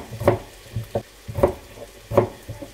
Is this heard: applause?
no